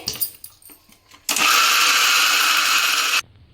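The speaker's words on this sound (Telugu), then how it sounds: "ఇప్పుడైతే మనం మిక్సీ పట్టుకుందాం" A kitchen mixer grinder whirs loudly for about two seconds while grinding corn batter, starting abruptly after some soft clattering and stopping cleanly.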